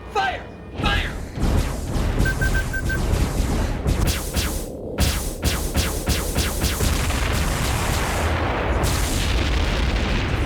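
Booming rocket-engine roar of a perigee kick motor firing in a sci-fi space battle, a loud sustained rumble with repeated blasts and crackling bursts, mixed with shouting voices.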